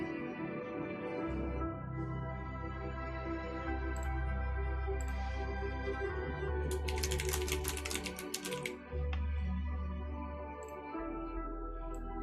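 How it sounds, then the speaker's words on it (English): Clicky computer keyboard typing under steady game music, rapid irregular key clicks running through much of the stretch, with a denser flurry of presses toward the middle. "Oh, my clicky keyboard. I love my clicky keyboard."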